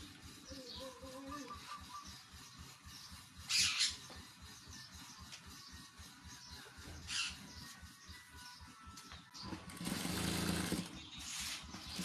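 A sewing machine stitches cloth with a quiet, fast, steady rhythmic chatter, joined by a few louder rustles and a brief burst of noise near the end.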